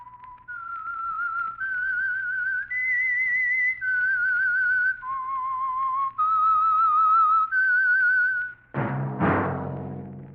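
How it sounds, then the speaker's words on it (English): A lone whistler carries the melodic theme of The Whistler radio program, a sustained tune of held notes stepping up and down, clear and close, ending with a sudden orchestral chord. "That whistle is your signal for the Signal Oil Program, The Whistler."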